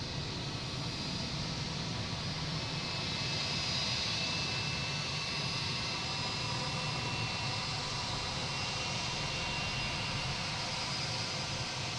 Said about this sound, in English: next taking off is a JetBlue, an A220 heading to Denver